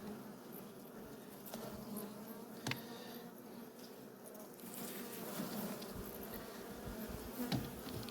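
Carniolan honey bees fill an opened hive with a soft, continuous buzzing drone heard up close while frames are inspected, with occasional light knocks and handling noises.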